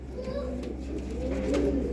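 Breeder pigeons coo in soft, repeated throaty phrases, close by and continuous, with faint background chatter underneath.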